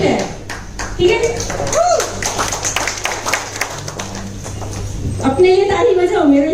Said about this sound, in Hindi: अपने लिए ताली बजाओ, मेरे लिए नहीं, ताली बजाओ अच्छी बजाओ